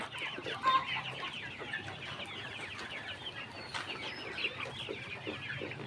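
Brown cock chickens kept as poultry cluck and mutter in a quiet, continuous flock chatter, fairly soft and steady, with no one speaking.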